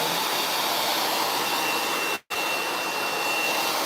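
A hair dryer blow-drying a client's hair roars loudly and steadily up close, cutting out for a split second midway before resuming with the same rushing blast.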